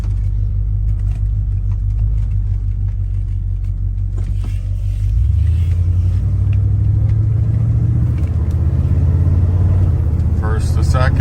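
A 1978 Ford F150 XLT pickup engine rumbles low and steady, then picks up and climbs in pitch while accelerating through gear shifts, heard from inside the cab with a brief voice near the end.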